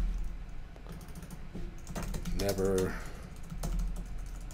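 Someone types on a computer keyboard in quick, uneven bursts of close clicks, with a brief spoken word in the middle.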